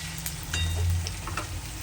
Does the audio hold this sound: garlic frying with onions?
yes